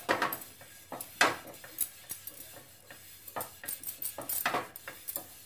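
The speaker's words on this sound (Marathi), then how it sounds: "ह्यावरती पाण्याचे शिंतोडे घालून तवा पुसून घेते." A dosa griddle on a gas stove being sprinkled with water and wiped, giving a string of close, sharp ticks, light hisses and scraping rubs in an uneven rhythm, with no talk.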